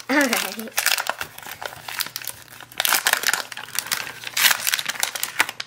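Plastic wrapping of a basketball trading card value pack crinkles and crackles in repeated bursts close by, interleaved with a person talking.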